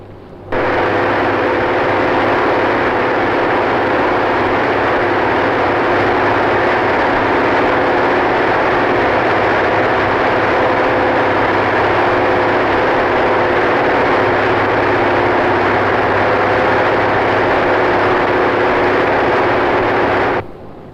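Steady, loud drone of aircraft engines in flight, a continuous heavy rumble with a constant hum that holds unbroken for about twenty seconds with no voices.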